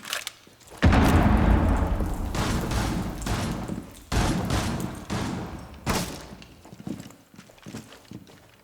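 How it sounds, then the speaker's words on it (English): Grenade blasts and gunfire in a Rainbow Six Siege pro league match, a heavy booming burst followed by several more thuds and rattling shots at close range, with muffled background noise between. "Kush has already taken a bit of a beating from some of these fast explosives and the shots coming through"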